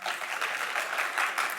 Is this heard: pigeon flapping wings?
no